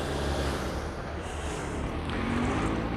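Road traffic in La Fortuna, Costa Rica rumbles as a steady low vehicle drone, with passing cars and trucks blending into a continuous near-field roar and no voices.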